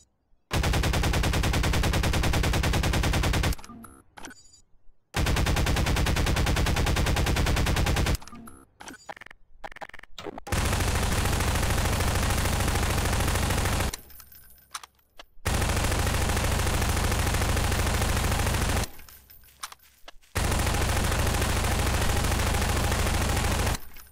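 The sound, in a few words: pulse rifle firing in video game Garry's Mod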